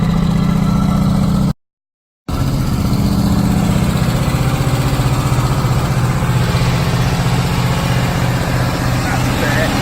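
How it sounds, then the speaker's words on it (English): An Oldsmobile Cutlass V8 with a Magnaflow exhaust and an exhaust leak idling close by, a loud, steady low rumble with a slightly high idle and a brief cut partway through. "As you can see, exhaust leak all over the place."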